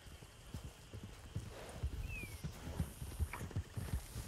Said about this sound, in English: Hear a lot of horses.